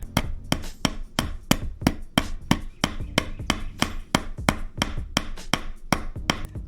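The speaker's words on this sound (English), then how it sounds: "I'm going to get this hanger nailed in the rest of the way" Small nails being hammered into a sawtooth hanger on wood, a close run of about twenty sharp, evenly spaced taps in a steady quick rhythm.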